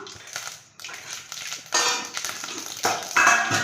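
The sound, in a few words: mustard seeds spluttering in hot oil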